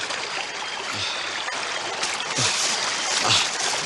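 A wide river flows with a steady, broad rushing wash, continuous and fairly close, with no voices over it.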